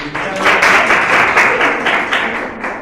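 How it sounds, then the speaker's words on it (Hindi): Applause from schoolgirls at an adolescent education programme, a loud close burst of many hands clapping with slight pulsing, fading a little toward the end, with faint voices mixed in. "इनके लिए ताली बजाइए बेटी"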